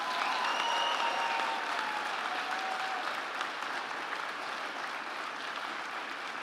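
A graduation ceremony audience at a business school fills the hall with sustained applause and cheering, broad and steady throughout, with a few whistles or shouts riding above the clapping.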